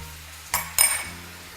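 Cornstarch slurry stirred with a spoon: two quick metallic clinks of the spoon against a bowl, close and clear, with no talking.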